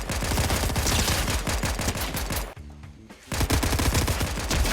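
Rapid gunfire from a shooter video game on Nintendo Switch, dense bursts of shots crackling loud and close, broken by a brief quieter gap before the firing resumes.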